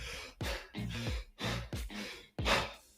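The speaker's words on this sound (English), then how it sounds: "you have to pant. You have to breathe much faster." A person demonstrates rapid vertical chest breathing with quick, loud, breathy inhales and exhales close to the mic, about six sharp pants in three seconds.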